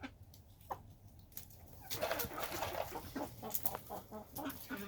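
Three-month-old Rhode Island Red chickens cluck while being fed, a quiet scatter of short clucks and pecking sounds close by that grows busier partway through, with no talking.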